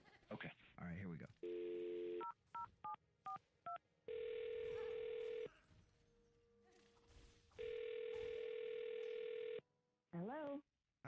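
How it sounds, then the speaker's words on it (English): A telephone number dialed by hand, with a series of short touch-tone beeps between long steady tones and a ringing tone, fairly faint, with brief bits of voice around them. "I'm going to dial her phone number right now"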